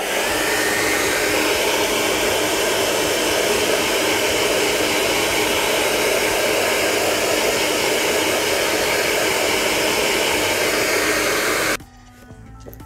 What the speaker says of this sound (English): If you have a hair dryer, you know, set it to hot mode.